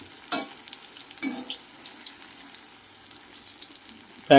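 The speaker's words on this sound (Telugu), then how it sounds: "కాకరకాయలు శుభ్రంగా వేగుతాయి" Bitter gourd slices fry in a pan for a crispy Telugu-style kakarakaya fry, giving a steady low sizzle with a few louder stirring scrapes and a sharp clatter at the end.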